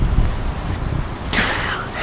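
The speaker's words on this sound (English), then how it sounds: "Blake's hat just blew off because it's windy" Gusty wind buffets the microphone outdoors at a school garden, a steady low roar that swells into a harsher, louder blast partway through, with no clear voices over it.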